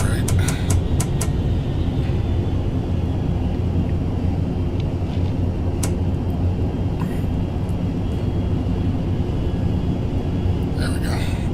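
Steady, loud engine drone of an ATR 72-500 turboprop in the Prepar3D flight simulator, holding throughout with the throttles being pulled back, plus a few brief clicks near the start and end.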